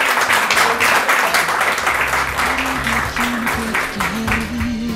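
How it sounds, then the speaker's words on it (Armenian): Audience applause at a televised song concert, a sustained wash of clapping throughout, with low tonal music rising underneath toward the end. "ծափարենք նրանց։"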